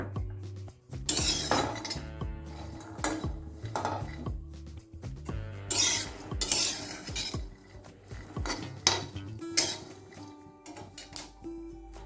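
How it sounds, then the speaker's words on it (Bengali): Roughly 200 g of peanuts dry-roasting in a pan for coconut naru, stirred so they rattle and scrape against the metal in repeated bursts of close clatter over a faint, steady tonal background, with no talking. "আমি দিয়ে দিচ্ছি বাদাম চীনা বাদাম এখানে দুশো গ্রাম মতো বাদাম আছে এটা আমি একটু ভেজে নেবো"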